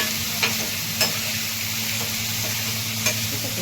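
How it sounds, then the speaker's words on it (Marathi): Potatoes stir-frying with onions in hot oil on a tawa, a steady close sizzle with a few soft scraping stirs of the spatula, no voices. "आपल्याला विचारायचं असं तेलामध्ये ते कांद्यामध्ये परतून घ्यायचे बटाटे."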